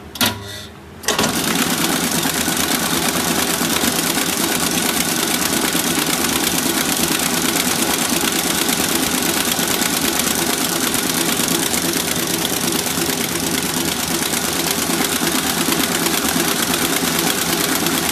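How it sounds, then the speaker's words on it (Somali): A blender whirs steadily while making a smoothie, starting after a brief pause with a sharp kick-on, then running loud and continuous, alone with no talk. "in yar baan haddana mashiinka ku yar celinayaa"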